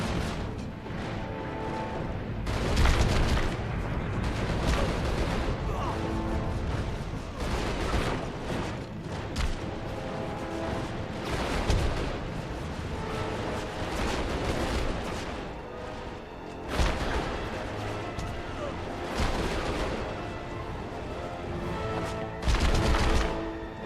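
Repeated grenade explosions and gunfire in the Deadfall video game, in a Mayan temple arena, with loud booming blasts recurring every few seconds over continuous dense gunfire throughout.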